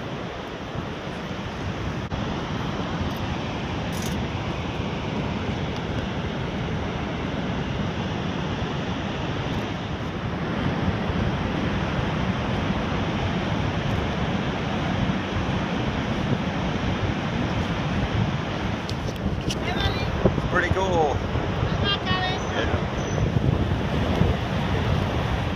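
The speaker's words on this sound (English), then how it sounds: "And here is Niagara Falls." Niagara Falls thunders in a steady, dense roar of falling water mixed with wind buffeting, unbroken and loud throughout, with no voices.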